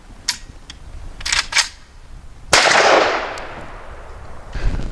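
An AK rifle on a range with a light misfire click, then the charging handle racked with a sharp metallic clack and a sliding rattle, close and loud.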